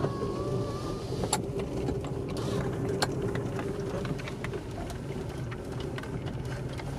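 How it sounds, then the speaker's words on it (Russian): An off-road vehicle crawls over rocks at night. A steady, dense engine rumble runs throughout, broken by scattered sharp knocks and clunks from the wheels hitting stone. "Вот по таким вот камням мы едем."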